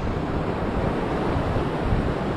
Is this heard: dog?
no